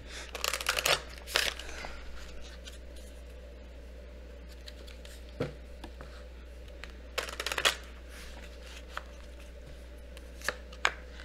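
Several brisk bursts of tarot card shuffling, close and crisp, separated by quiet pauses with a low steady hum underneath.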